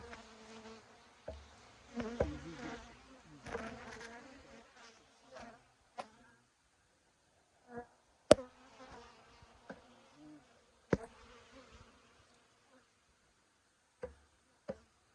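Honey bees buzzing during a bee removal: intermittent close buzzing passes and bursts, with sharp knocks and clicks of handling between quieter gaps.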